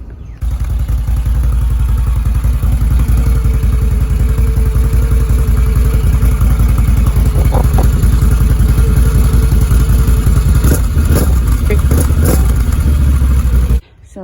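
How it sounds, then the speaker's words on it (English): Stock exhaust on a 2020 Can-Am Renegade ATV runs at a steady, loud idle close by, a rough, even drone that holds for about thirteen seconds before cutting off abruptly. "The first thing up is the stock exhaust."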